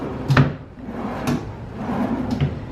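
A storage drawer built under a bench seat in a Disney Saratoga Springs resort room slides open, giving a few soft wooden knocks and a scraping glide at close range, with no talking.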